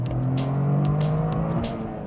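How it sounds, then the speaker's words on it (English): A Toyota GR Corolla's three-cylinder engine revs up close, a throaty rising snort with a brief whir, then the note drops away as revs fall, with no talking. "The engine note gives off a nice snort."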